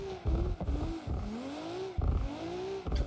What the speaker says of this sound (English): I want to do a quick donut.